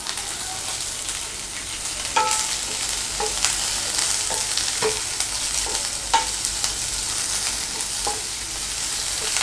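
Onions and spring onions sautéing in a pan for chilli chicken, a steady broadband sizzle with periodic spatula stirs and scrapes every second or two, close and moderately loud, no voices.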